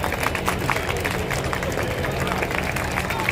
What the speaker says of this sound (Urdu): پرزور تالیوں سے ہم استقبال کرتے ہیں۔